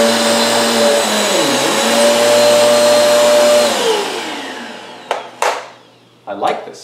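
A Eureka Airspeed One cordless stick vacuum whirs steadily at close range, its pitch dipping briefly, then winds down and stops, followed by a few soft bumps and knocks.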